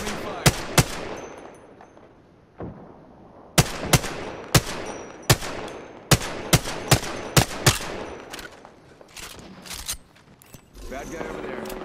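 Automatic weapon fire in the battle royale game Apex Legends: repeated sharp gunshot bursts and single cracks, loud and close, some in rapid clusters, with faint talk underneath.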